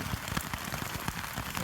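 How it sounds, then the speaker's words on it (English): Rain pattering on a tent during a pouring afternoon on a hike to a shelter, giving dense close drops with a few sharper taps over a short steady wash. "And it's raining."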